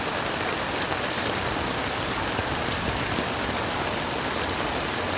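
Floodwater surging like a river along Visayas Avenue, a dense, loud, unbroken rushing wash with a rain-like hiss, steady throughout with no voices.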